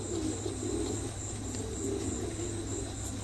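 A pair of pigeons coo faintly and steadily with a low insect-like hum behind, quiet and continuous with no voices.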